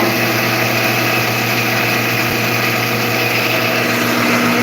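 A plastic granulator grinds PLA and bottle caps in a steady, loud, unbroken drone with a constant motor hum and dense grinding texture throughout, no talk.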